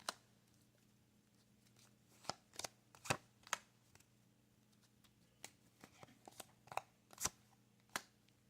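Playing cards being laid out one at a time on a table: sparse, sharp little snaps and slaps, close and fairly quiet, in irregular clusters with pauses between, against a faint steady hum.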